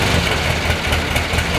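A Renault 11 petrol engine idling just after starting, a steady loud close rumble with no talking.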